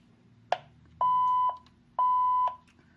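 An apartment intercom rings out: a short click followed by two long, steady electronic ringing tones about half a second each, clear and close in a quiet room.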